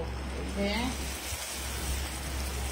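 Onion paste sizzling in a hot frying pan while cooking a prawn curry (chingri malaikari style), a steady hiss and crackle throughout, with faint speech and a brief voice near the start.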